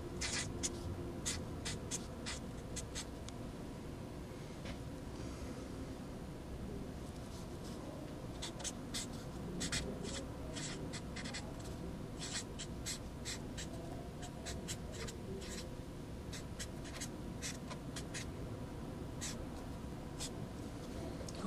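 A marker or pen writes out a mathematical function by hand in quiet, close, repeated scratchy strokes that come in bursts over a faint steady hiss.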